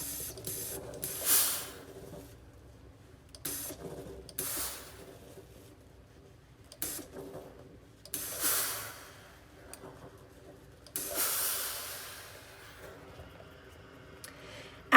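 A steam iron presses the folded quarter-inch upper edge of a shirt pocket, releasing short bursts of hissing steam separated by quiet pauses, up close and with no talking.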